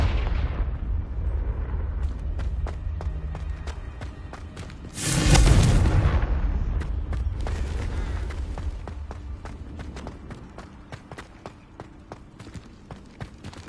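A Confringo spell explosion in Hogwarts Legacy: one loud, close blast that rises quickly and fades slowly, with scattered clicks and thuds around it and no voices.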